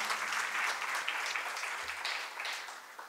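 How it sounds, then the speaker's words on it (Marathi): Loud, sustained applause from an audience welcoming guests at a Marathi literary event, a steady dense clatter of clapping with no voices over it. "आपल्या सर्वांच्या वतीनं आपले पाहुणे यांचे जोरदार टाळ्या वाजवून आपण स्वागत करूया"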